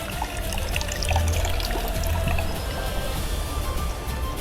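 Water flows and trickles at an old village wash house, a steady, close, continuous rushing and splashing with no voices.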